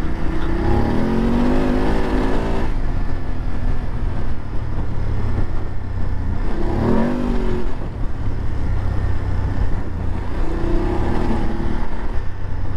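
A 2022 BMW F750GS motorcycle being ridden, with a continuous loud engine drone and wind rush from onboard, the engine note rising and falling through several gear changes.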